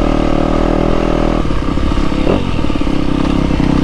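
A new Yamaha YZ250F motocross bike at a motocross track, its engine loud and close, buzzing steadily and then revving with a rougher, clattering edge, with no voices.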